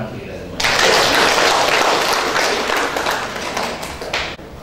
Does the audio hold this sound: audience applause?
yes